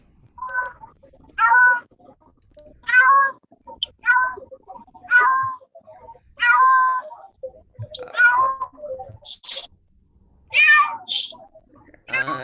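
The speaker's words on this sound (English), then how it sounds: "I got two cats here." Two house cats meowing in a series of about a dozen short, clear meows, some rising and strained, close and fairly loud with quiet gaps between calls and no talking.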